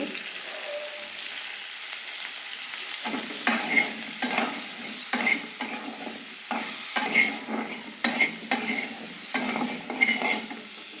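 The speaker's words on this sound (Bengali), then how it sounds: "আলু পটলগুলো ভাজা হয়ে গিয়েছে" Potatoes and pointed gourd frying with salt and turmeric in a wok. After a quiet start, close spatula strokes scrape through the pieces in a steady rhythm of roughly one a second over a continuous sizzle, with no voices.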